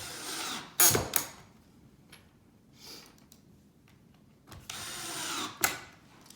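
A power driver runs pocket hole screws into the wooden side pieces of a farmhouse corner bench in short, close whirring bursts separated by quiet pauses and small clicks.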